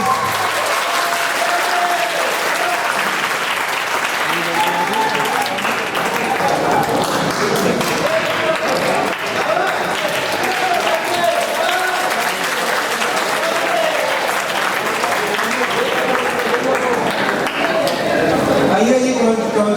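Children applaud during a prize-giving, with sustained loud clapping from a crowded room and chatter mixed in throughout.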